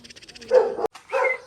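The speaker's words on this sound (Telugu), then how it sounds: "ఇక్కడ చిన్న కుక్క పిల్ల జర్మన్ షెఫర్డ్" A German Shepherd puppy gives two short, close, high-pitched barks with a brief pause between them.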